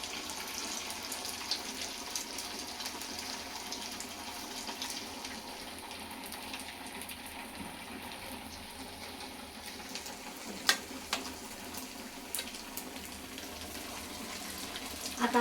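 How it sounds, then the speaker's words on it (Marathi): Sabudana vada deep-frying in hot oil, a continuous dense crackling sizzle that holds steady for the whole stretch, with a few brief clicks of a utensil near the end and no talking. "आता आपल्याला सगळे साबुदाणे वडे अशाच पद्धतीने तळून घ्यायचे आहेत."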